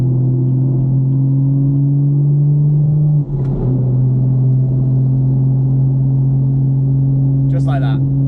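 Loud, steady engine drone of a tuned 430hp stage 2 car running on 95 octane fuel, accelerating to overtake, with a deep low hum throughout, a brief shift partway through, and a short high rattle near the end.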